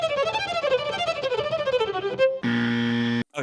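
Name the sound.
fast virtuoso violin playing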